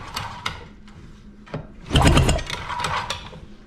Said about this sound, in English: this is all hand cranking because this engine does not have a starter